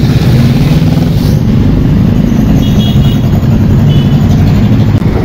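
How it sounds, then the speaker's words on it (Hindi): Morning city traffic in Rajkot, a loud, steady rumble of car and motorcycle engines idling and moving close by, with no voices. "सुबह सुबह कितना ट्रैफिक हो गया है यहाँ पे।"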